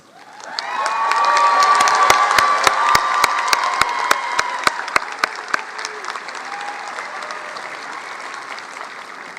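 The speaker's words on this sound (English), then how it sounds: "I will ask these students please to stand and be recognized by giving them a round of applause" Crowd applause with scattered cheers for early college graduates at a South Mountain Community College commencement ceremony, swelling to a steady roar of clapping with sharp individual claps standing out, then tapering off.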